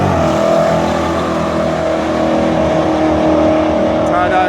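A black Nissan 370Z engine holds a loud, steady high rev while spinning at a car event, a sustained droning roar heard up close with people talking over it.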